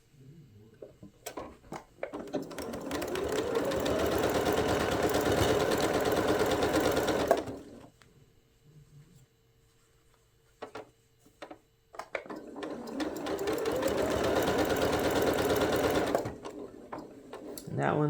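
A sewing machine stitches pixel quilt pieces in two sustained runs of rapid mechanical whirring, each about five seconds long, separated by a quiet stretch with small taps and handling sounds.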